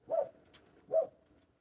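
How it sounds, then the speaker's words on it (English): A dog running around outside gives two muffled, distant barks about a second apart, with faint quiet between them. "That is my dog running all crazy around outside."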